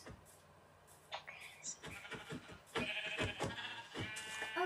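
Sheep in the video game Minecraft bleat in a few short calls amid game sounds, with a person talking over parts of it.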